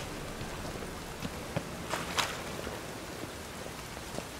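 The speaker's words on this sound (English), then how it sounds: "I like rain. Keeps the rogues indoors." Steady rain falls in the city of Novigrad in The Witcher 3: Wild Hunt, a soft continuous patter with a few brief louder drops and splashes, no voices.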